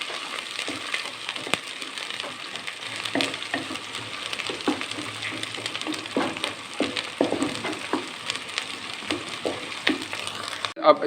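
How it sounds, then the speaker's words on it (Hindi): Ginger garlic paste frying with onions in a pan, a steady close sizzle with intermittent stirring scrapes and crackles throughout, no talking. "अब इसमें हम डालेंगे 1 टेबल स्पून अदरक लहसुन का पेस्ट नाज़रीन, और इसको भी इसमें हम थोड़ा सा फ्राई करेंगे।"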